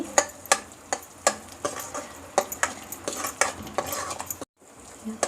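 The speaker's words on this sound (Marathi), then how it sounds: "आता हे सगळे हलवून घेते." Chicken being stirred with homemade chutney masala in a pan, Kolhapuri dry chicken style: repeated sharp scraping and clinking strokes of a spoon against the pan at a steady rhythm, close and fairly loud, with no talking.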